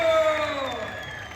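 Dense crowd noise at a wrestling match, sustained cheering and whooping from a large audience with a steady roar, briefly loud and fading slightly toward the end.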